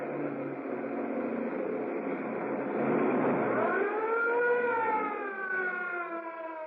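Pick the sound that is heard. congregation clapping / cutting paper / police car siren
police car siren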